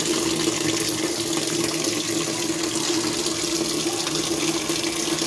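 Water pours steadily into a top-load washing machine, an even, continuous rushing hiss with a low steady hum underneath, no talk.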